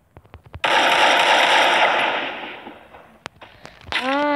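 A sustained burst of automatic gunfire rattles for about two seconds in the video game Free Fire, followed by a few sharp isolated shots and a rising tonal game effect.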